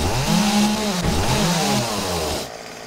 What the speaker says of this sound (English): Chainsaw action.